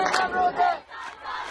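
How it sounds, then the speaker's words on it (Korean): Marching students at an anti-government protest in Iran chant slogans together, a loud massed crowd shouting in rhythmic bursts with a brief dip in the middle. "행진 중인 학생들이 손뼉을 치며 구호를 외칩니다"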